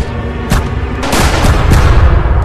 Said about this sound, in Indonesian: seluruh pihak polisi pun langsung melepaskan tembakan dan memerondong Tony